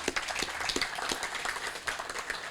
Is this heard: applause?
yes